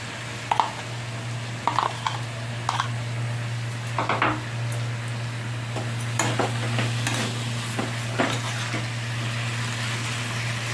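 Minced chicken being stirred in a cooking pan for chicken momo filling, with repeated scraping and clinking strokes over a steady low hum and soft sizzle, close and moderately loud, no talking.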